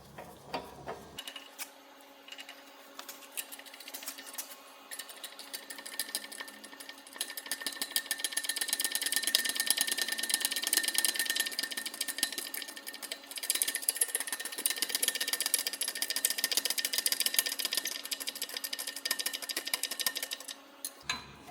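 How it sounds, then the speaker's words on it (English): Rear wheel bearing on a VW Amarok being fitted as a half shaft is pressed into it, giving a steady whirring, ticking mechanical drone that swells through the middle and holds for about twenty seconds with no talk. "we can now put some weight on it and press the half shaft into the bearing"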